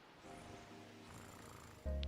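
A cat purring in the video game Boyfriend Dungeon: a soft, low rumbling purr heard up close for about two seconds, ending in a sudden louder burst.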